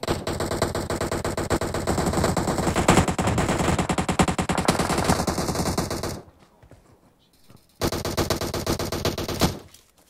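Rapid automatic gunfire in an online multiplayer video game, loud dense bursts of shots that cut out briefly and then resume in another burst.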